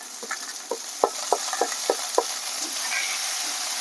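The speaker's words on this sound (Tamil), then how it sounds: "இப்ப இந்த தக்காளி பழத்தை நம்ம போடுவோம்" Chopped tomatoes tipped onto sautéed onions in a hot pan for peanut chutney, giving a steady sizzle with a run of soft stirring scrapes and taps, close and moderately loud, no talking.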